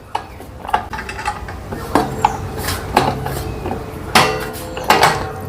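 A 10 mm spanner tightens a nut and bolt on a Suzuki Jimny while fitting a jerry can holder and side ladder, giving close metallic clicks, ratcheting scrapes and clinks at irregular intervals.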